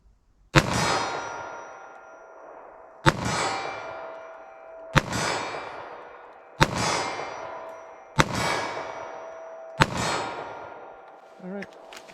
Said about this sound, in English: So 25 yards, first shots,